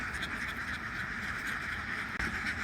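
A large flock of farm ducks being moved between wetlands, a dense continuous chorus of quacking that blends into a steady wall of sound, with no clear individual calls standing out.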